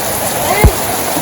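Heavy rain falls steadily in a village kitchen yard, a dense, even hiss with one brief louder splash in the middle.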